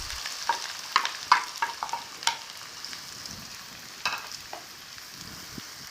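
Diced medium onions frying in a pan as the base for chicken karahi. A gentle steady sizzle carries through, with quick scraping stirs in the first seconds and another few stirs later. No voices.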